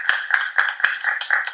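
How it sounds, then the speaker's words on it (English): Light, rhythmic handclaps repeat about every quarter second, steady and close, with no voices. "Give one a little clap."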